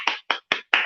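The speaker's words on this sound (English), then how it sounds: "Give him a clap." Four sharp, evenly spaced claps ring out in under a second at an award ceremony for a recipient, crisp and close with brief silences between them.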